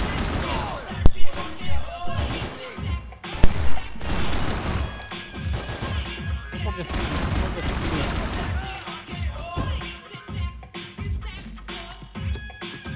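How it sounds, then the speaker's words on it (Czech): Gunfire and smashing impacts from the video game Max Payne 3 come in loud bursts with a few sharp peaks near the start, continuing at a steady intensity throughout, with speech mixed in. "Co po mě střílí?"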